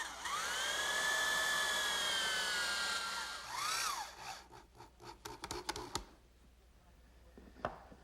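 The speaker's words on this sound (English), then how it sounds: "I'll fasten this with a drywall screw" A power drill drives a drywall screw into a wooden rocking horse side panel. A rising whine, then a second short burst, is followed by scraping and clicking handling noises. The whole sound is moderately close and quiet.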